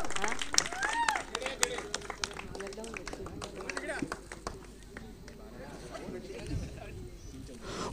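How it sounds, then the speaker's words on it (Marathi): Audience at a box cricket prize distribution ceremony clapping in scattered, fairly dense applause that thins out, heard under an announcer's voice. "सर्वांनी एकदा जोरदार टाळ्या वाजवायच्या आहेत."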